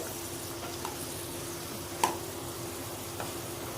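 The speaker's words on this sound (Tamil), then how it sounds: "நம்மளோட இந்த நெய்யில் போட்டிருக்கிற அந்த ட்ரை ஃப்ரூட்ஸ் எல்லாமும் நல்ல பொன் வறுவலாக வறுத்துட்டே வருது." Dry fruits roasting in ghee for healthmix laddu, a faint, even crackling sizzle with a couple of soft ladle ticks, no talking.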